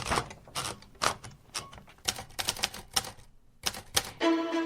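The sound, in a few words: grandfather's typewriter, sheet of paper being put in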